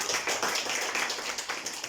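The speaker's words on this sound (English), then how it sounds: "Well done. Clap for Maria." A classroom of students claps for a classmate in a quick, brief burst of scattered hand claps, moderately close and fairly quiet.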